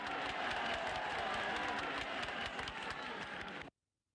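Exuberant crowd greeting Charles de Gaulle in Quebec in 1967, a dense continuous roar of cheering and applause that stays loud and steady before cutting off abruptly.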